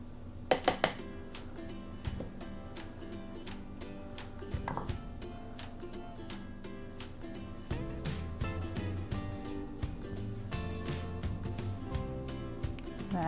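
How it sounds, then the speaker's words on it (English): Ingredients tumble into a mixing bowl with flour for a slow cooker chocolate cobbler, making repeated light clinks and clatters of utensils against the bowl, close and fairly quiet, with a few sharp taps at the start. "I'm just going to dump all these ingredients in this mixing bowl with my flour"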